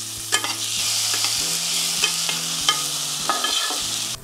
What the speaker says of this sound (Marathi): आता हे आपले डाळ तांदूळ आणि त्यातले सगळे मसाले असे परतून झालेले